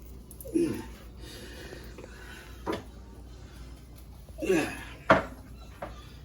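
A garlic container being opened in a home kitchen makes a few separate, fairly quiet clicks and rattles of handling, with pauses between them.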